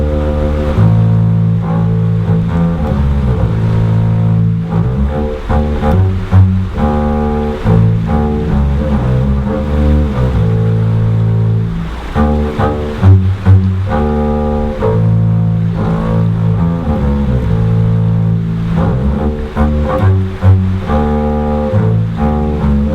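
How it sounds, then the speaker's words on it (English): A double bass plays a lyrical melody from Schubert's Trout Quintet, loud and close, with sustained bowed low notes that move in a steady phrase across the whole passage. "So I'm going to play a little theme from the Trout Quintet"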